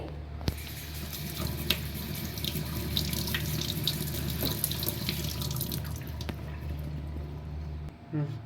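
Hibiscus leaves washed under running tap water, a steady close splashing flow into a sink with occasional clinks, continuing throughout and cutting off briefly near the end.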